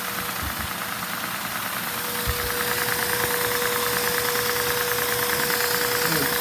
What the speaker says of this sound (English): You can hear the engine now.